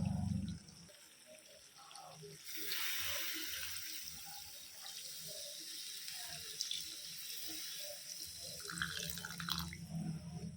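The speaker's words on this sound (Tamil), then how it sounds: "இப்போ தேவையான அளவு தண்ணி சேர்த்திக்கலாம்." Water pours steadily into a pan of masala chicken for several seconds, with light splashing and drips, quiet and close by.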